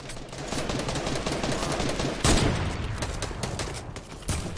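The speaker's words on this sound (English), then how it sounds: "Oh, we're getting shot from behind." Rapid gunfire in a Fortnite duos match crackles in dense bursts. It builds to a loud, close blast midway and comes with a few more sharp shots near the end.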